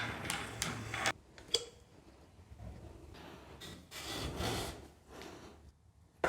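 Pencil marking a line on a bathroom wall during a tiny home build, heard as a few faint, quick scratchy rubbing strokes in short bursts separated by quiet pauses.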